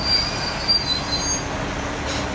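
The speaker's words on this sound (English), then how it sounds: "The Limited Express Hirasagi number 15 bound for Kanazawa will soon arrive at track number 11." Limited Express Hirasagi train pulling into a station platform, wheels squealing in a sustained high-pitched whine over a steady rumbling roll, loud and close, with no voices.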